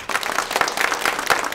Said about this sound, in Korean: 박수로 환영하면 좋을 것 같습니다